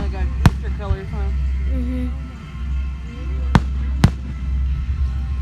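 Fireworks at an outdoor show go off in sharp, loud bangs: one early burst, then two close together near the end, over steady low rumble with people chatting throughout.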